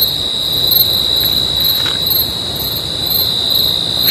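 Crickets chirping outside a homestay in the pitch-dark night at Dudhiya, North Bengal, a loud, steady, high-pitched trill running continuously with no voices.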